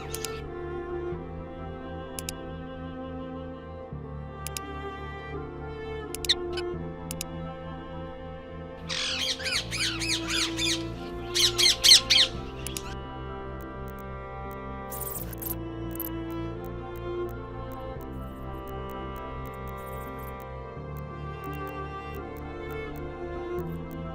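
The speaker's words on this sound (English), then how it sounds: "We need bird's voice and also snowstorm voice to hear." Short bursts of bird squawks and chirps break out over soft, sustained background music, clustered in the middle and otherwise sparse.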